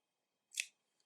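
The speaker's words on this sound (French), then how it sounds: "on coupe le fil" Scissors snip through crochet yarn in one short, crisp cut in an otherwise quiet room, with a faint tick just afterward.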